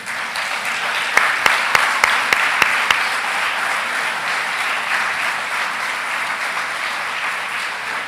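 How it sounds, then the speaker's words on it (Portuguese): A church congregation applauds steadily, a dense wash of clapping throughout with a few sharper individual claps early on, loud and sustained without talk. "Você pode dar um aplauso a você mesmo?"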